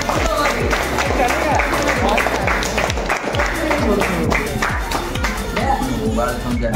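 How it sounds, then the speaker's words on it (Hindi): Children and adults clap at a Teachers Day celebration in a karate school, fast dense rhythmic clapping that carries on loudly and close, with voices calling and chattering throughout. "ताली मारो क्लैप मारो"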